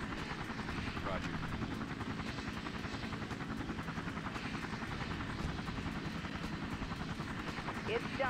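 Helicopter flying in the Emergency 4 emergency-services video game, a steady rotor chop and engine drone throughout, fairly quiet and constant with faint game radio chatter.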